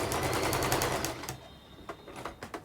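A sewing machine stitches a welt pocket in a fast, steady whir for over a second. It then stops, and a few short, separate bursts of stitching follow close by with no talk.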